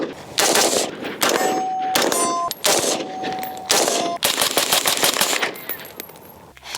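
An Aegis Weapons 12.5-inch mid-length AR upper receiver fires on an outdoor range in loud, rapid shots grouped into several close bursts, with metallic pings ringing between them.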